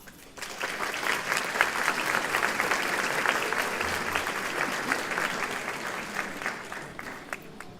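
Sustained applause from a school assembly audience welcoming the principal at an 8th grade continuum and awards ceremony, steady and full for several seconds before tapering off.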